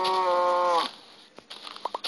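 Cow from the Minecraft video game (version 0.11.1) lets out a single loud harmonic moo, followed by a few soft clicks and short game sound effects.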